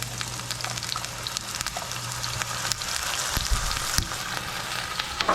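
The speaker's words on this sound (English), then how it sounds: "Alright, so we're gonna add our black beans to cook." Black beans tipped into a hot pan, loud continuous sizzling and frying close up with a few bumps and stirring scrapes.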